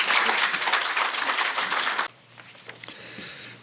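A hall audience applauds after a political speech at a community meeting, a loud, dense burst of clapping that cuts off abruptly partway through, leaving quieter room noise and a few scattered claps.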